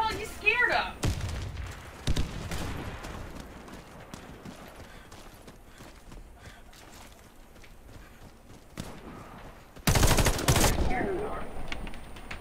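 Shotgun fire in the shooter Warface: a loud blast near the start and a heavier burst of blasts near the end, with quieter footsteps, game noise and talking in between.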